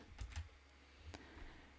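A few soft keyboard clicks, faint and close, come in quick succession as a shortcut (Ctrl+V) is pressed, then a single later press in a quiet room.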